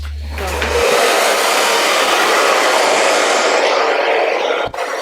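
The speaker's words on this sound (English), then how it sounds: "I'm gonna get a blow dryer and blow her out." A hair dryer switches on and blows out a human hair lace wig with a steady, loud whooshing roar close by, holding constant for several seconds.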